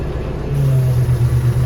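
Tractor engine pulling a Lemken plough in fourth gear during ploughing, a steady low rumbling drone that rises slightly in load partway through and holds at a constant hum.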